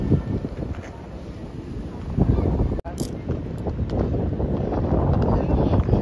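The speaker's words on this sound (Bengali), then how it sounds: "কি সুন্দর হাওয়া দিচ্ছে, দেখো একবার, দারুণ হাওয়া দিচ্ছে" A strong, cool evening wind buffets the microphone in steady rumbling gusts, with a brief dropout partway through.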